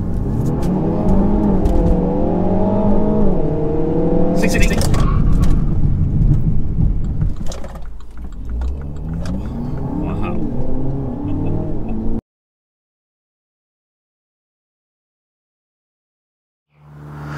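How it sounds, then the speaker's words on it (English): A Mini Clubman and a Mini Countryman accelerate side by side in a 0-60 run, with a loud engine roar rising through gear changes for about twelve seconds before cutting to silence. "So it would be rude not to do a 0-60 and back down to 0 test"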